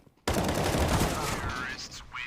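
Rapid bursts of rifle fire in a professional CS:GO match on Dust2, a dense volley erupting after a brief quiet and continuing loud throughout, with a caster talking over it.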